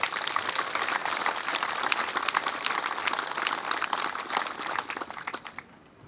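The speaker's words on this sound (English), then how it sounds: "Please give them a big round of applause." Sustained applause from a crowd at an army aviation brigade change of command ceremony, dense and continuous before tapering off into quiet at the end.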